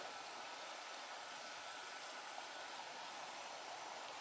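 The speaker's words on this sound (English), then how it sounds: "And here's our plane." A US Air airliner flying overhead makes a steady, broad roaring rush that holds at an even level throughout, fairly distant and with no voices over it.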